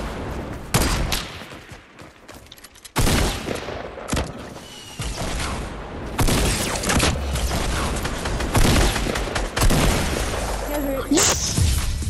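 A rocket launcher fires repeatedly in a video game, with loud booming blasts and explosions layered among chaotic gunfire, while players talk excitedly throughout.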